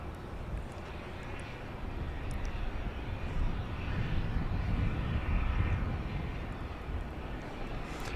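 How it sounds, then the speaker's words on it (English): A Southwest Boeing 737 MAX 8 takes off at Dallas Love Field with a broad, steady jet engine roar that swells to a peak midway, then holds loud and continuous. "This is a MAX 8 off to Reagan Airport in Washington, flight 2025."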